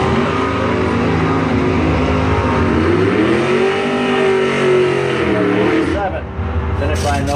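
Drag race launch at a strip with a 1968 Camaro carrying a 555 cubic inch engine against a Corvette Roadster: loud, sustained revving that climbs and dips in pitch, with an announcer talking over it.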